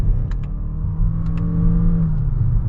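Lexus NX450h+ (2024) hybrid engine revving steadily through its CVT gearbox in S mode, a loud sustained drone that holds at one pitch throughout with no talk over it.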